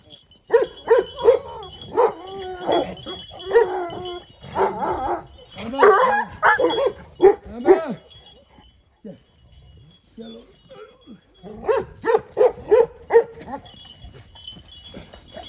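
Kangal shepherd dogs, Turkish livestock guardians in snowy Sivas, bark in loud, deep, repeated volleys that come close together, with pauses and some whimpering yips between the bursts.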